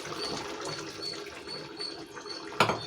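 Soaked tamarind pulp pours into a pot of simmering dried fish, eggplant and potato curry, making a steady close liquid splash and trickle that ends in a short sharp splat.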